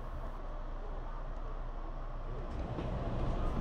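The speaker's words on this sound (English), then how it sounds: "Right as the train moved again, we enter Blaine," An Amtrak Cascades passenger train moving, heard as a steady low rumble and rolling rail noise that grows slightly louder toward the end, with no speech.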